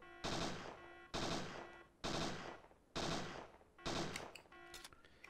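Bursts of automatic gunfire from the video game Parasite Eve 2, five loud sharp volleys spaced about a second apart, each ringing briefly before the next.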